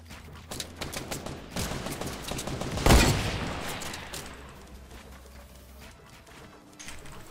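Desert Eagle pistol fire in a Fortnite Battle Royale match, mixed with a dense stream of rapid gunfire, peaking in one loud close crack before fading into scattered shots.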